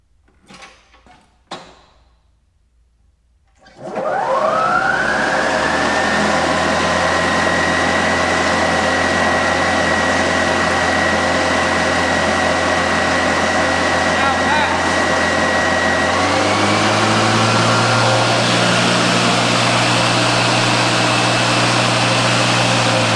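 A Toro 60V Turfmaster HDX battery lawn mower starts up after a few clicks, its motor rising into a steady hum on the low setting, then shifting to a deeper pitch partway through, loud and close.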